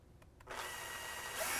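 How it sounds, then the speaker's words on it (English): After two light taps, a power drill spins up and whines steadily up close while boring a 1/8 inch pilot hole at an angle into a step bracket on a 2017 Ford F-250, its pitch rising slightly near the end. "We're going to drill our same 1/8 inch pilot hole"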